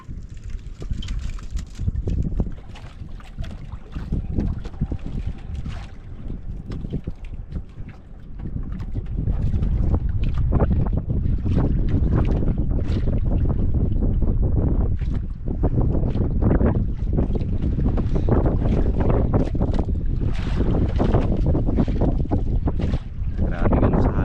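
Strong wind roars and buffets outdoors in a continuous low rumble, growing louder and steadier after the first several seconds, with no clear talk.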